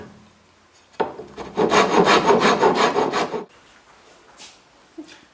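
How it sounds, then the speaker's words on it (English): A wood rasp shaping teak handrails: a steady run of rhythmic, coarse scraping strokes for about two and a half seconds, close and fairly loud, then quiet. "dressed them with a rasp"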